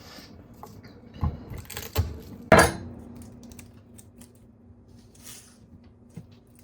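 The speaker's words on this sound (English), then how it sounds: "Super easy way to open your garlic is just to smash it with a knife." A kitchen knife smashes garlic cloves on a cutting board in a home kitchen while vegan chili mac is prepared: two soft thuds, then one sharp, loud crack, followed by quiet background clinks and a faint steady hum.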